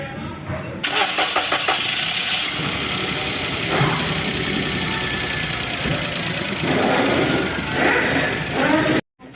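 A Toyota Agya that had broken down and overheated cranks with a rapid chattering starter, then catches and settles into a running engine, near and fairly loud, with some voice in the background.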